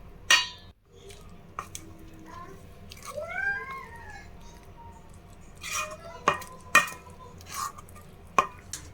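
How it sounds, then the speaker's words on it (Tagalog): A metal spoon stirs banana cake batter in a bowl, giving a few sharp clinks against the side amid soft scraping, close and fairly quiet. "At ilagay na natin lahat at i-mix lang ng maigi hanggang sa wala ka nang makitang flour"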